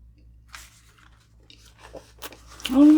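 Someone eats a first bite of Red Ribbon's Yema Caramel sponge cake with caramel layers, making soft, close, intermittent chewing and squishing sounds; faint vocal noises rise at the end.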